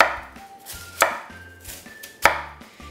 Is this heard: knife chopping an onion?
yes